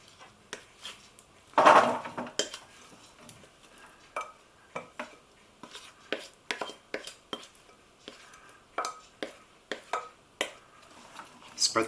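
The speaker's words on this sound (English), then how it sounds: "pop your carrots onto a baking sheet" Carrots are tipped onto a metal baking sheet, making light clinks and rattles: one louder clatter early on, then a string of small, irregular taps while the carrots are spread out nearby.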